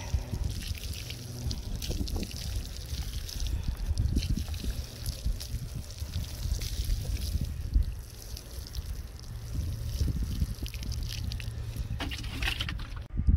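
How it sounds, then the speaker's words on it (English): Water is poured onto a freshly planted garlic bed outdoors in hot weather, a soft uneven splashing and trickling into soil that continues throughout with low rumbling wind-like noise underneath. "Next is just to water it in."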